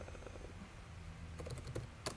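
Light typing on a computer keyboard while writing Lisp code in an editor, a handful of faint, quick key taps near the end over a low steady background hum.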